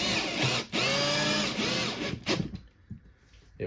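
Power drill driving a couple of screws into a plywood wall, a loud steady whine running for about two seconds with a brief break, then dying away into quieter handling noise.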